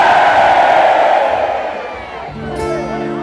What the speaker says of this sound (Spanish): Ahora gritar fuerte, fuerte, porque es la última.